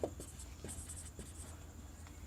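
Chalk or marker scratches on a board as a maths proof is written out, soft rhythmic strokes and taps close by against a low room hum.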